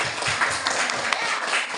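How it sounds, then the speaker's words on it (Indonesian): Students in an Islamic education class applaud a classmate, a short burst of scattered hand clapping heard at moderate level through a room. "kasih tepuk tangan dulu untuk Aziz"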